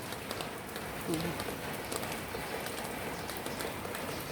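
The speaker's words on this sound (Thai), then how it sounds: "ฝนตก" Out-of-season rain falls in Mahachai, Thailand, a steady soft hiss of drops on surfaces with a faint bird call in the background.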